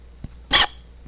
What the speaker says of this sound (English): For example, a short call might sound like this.